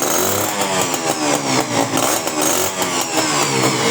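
CDI motorcycle engine idling and running, a rough, rapid mid-pitched beat that stays loud and steady close by, with slight pulsing in the rhythm and no talking.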